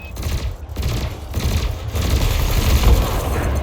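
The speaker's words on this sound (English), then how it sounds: "Your cannon will automatically reload until the ammunition supply runs out. Meanwhile, your laser will fire until the capacitor is depleted," Ship cannon and laser weapons firing in the space game Elite Dangerous, a dense, continuous barrage of low booming shots and rapid bursts that build in loudness toward the end, with no talk over it.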